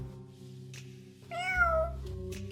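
A human voice imitating a cat with one short meow, heard close over a low steady background hum.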